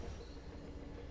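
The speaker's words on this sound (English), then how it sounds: "Is that the train?" A train in the Metro Exodus video game rumbles past as a low, steady rolling drone with faint rail clatter, heard close and unbroken for a moment.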